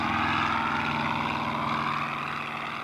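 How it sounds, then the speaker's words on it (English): A restored Zero fighter plane makes a pass over the airfield, its propeller engine droning loud and steady throughout. "Making a fighter pass over the field and a pull-up"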